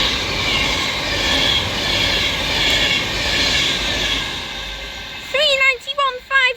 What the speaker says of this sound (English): Avanti West Coast service to London Euston from Manchester Piccadilly